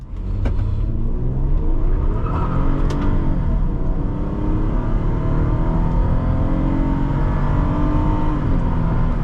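A 2011 Toyota Camry SE V6 accelerates hard from a standstill, its engine note rising steadily and loud throughout with strong low-end roar and road rumble, heard from inside the car with no talking.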